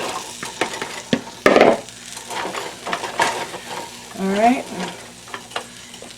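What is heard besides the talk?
potatoes frying in a pan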